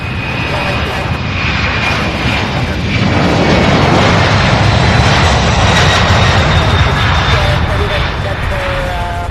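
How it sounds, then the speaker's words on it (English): A Boeing 767 jet airliner at Louisville airport gives off a loud, steady, broadband engine roar. It stays close and continuous throughout, rising slightly in intensity partway through. "Oh, it's Boeing 767 heading to Salt Lake City."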